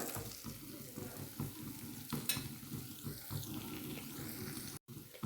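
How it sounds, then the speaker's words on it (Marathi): Curry leaves sautéing in a pan of oil for a Marathi cabbage bhaji, with a steady close sizzle and soft stirring scrapes throughout, no voices. "आणि कढीपत्ता पण आपण यामध्ये परतवून घेऊया"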